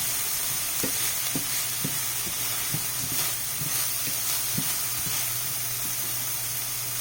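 Fresh corn frying in a pan sizzles loudly and continuously, with a spatula scraping and knocking against the pan at a fairly regular pace.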